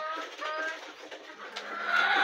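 A pair of rooftop pigeons coo softly and continuously at close range, a low murmuring drone with faint background noise and no clear talk.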